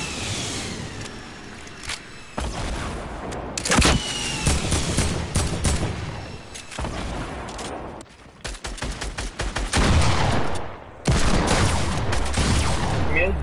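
Gunfire in the video game Fortnite: loud, rapid bursts of shots and single cracks come in irregular clusters over dense game noise, with no talking.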